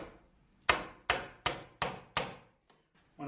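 A hammer taps a nail into tongue and groove siding for a film studio: five sharp, evenly spaced wooden strikes close up, then two fainter taps, in a quiet space.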